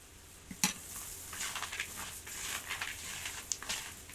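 Quiet scraping and soft clinks of a spoon stirring a thick peanut and egg mixture in a bowl for egg-coated peanuts, with a sharper tap near the start.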